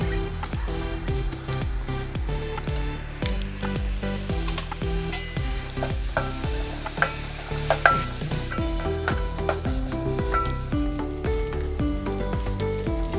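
Ginger garlic paste frying in a pan for chicken biryani, a steady sizzle heard throughout with repeated scraping and stirring strokes, close and moderately loud, with no voices.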